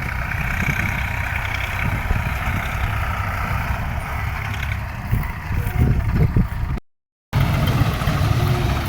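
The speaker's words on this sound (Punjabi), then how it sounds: "ਇਹ ਸੇਵਕ ਦਾ ਟਰੈਕਟਰ ਇੱਥੋਂ ਇਹ ਚੱਕ ਰਹੇ ਨੇ ਮਿੱਟੀ ਤੇ ਮਡ ਲੋਡਰ ਨਾਲ" A heavy diesel tractor engine rumbles steadily nearby while loading soil with a mud loader, droning continuously with slight load changes and a brief dropout near the end.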